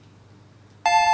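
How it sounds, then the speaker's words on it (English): Level-up jingle from a Pokémon video game bursts in suddenly and loudly after near-silence, a bright electronic tonal fanfare that holds steady to the end. "the level up scared the tar out of me, Boa."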